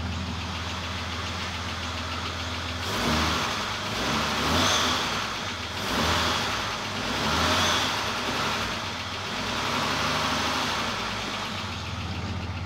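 A rebuilt Mazda Mirai engine starts and settles into a steady, rough idle with a persistent ticking from one noisy valve lifter, swelling briefly with a few blips of revving midway before idling on, close and loud with no talk.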